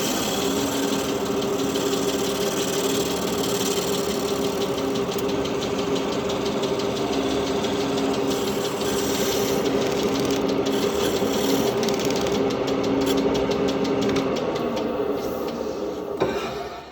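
Steady, continuous machinery hum with a rhythmic knocking drone from the elevator equipment at the historic Watsons Mill, running evenly and close by until it cuts off near the end.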